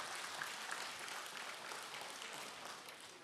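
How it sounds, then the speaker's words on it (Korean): Church congregation at a Friday prayer service applauds after a worship song performance, producing a dense, even wash of many hands clapping continuously at moderate volume with no talk. "하나님께 영광의 박수를 드리고 또 격려의 박수를 하십시다."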